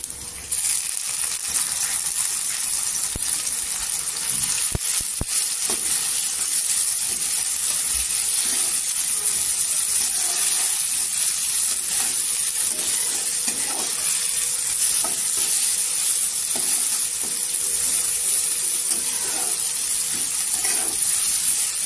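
A tomato drops into golden fried onions in a pan, followed by a constant bright sizzle of frying and occasional stirring clinks, with no voices.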